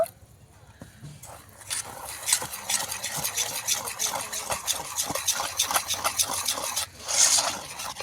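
Pitha batter being whisked together with milk in a bowl, a quick run of close, rhythmic scraping and tapping strokes that begins faintly and then keeps up steadily, with no one talking.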